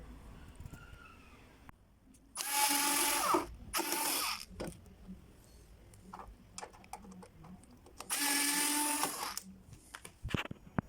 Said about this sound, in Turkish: Buradaki vidaların söküm işlemini yaptıktan sonra arka tarafında bulunan metal kısmı çıkartmamız gerekiyor